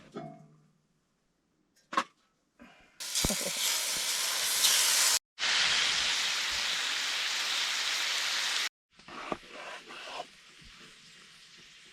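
Bacon sizzling loudly in a pan at a frozen forest campsite, a broad crackling hiss in two long stretches broken by a short pause, with softer clatter before and after.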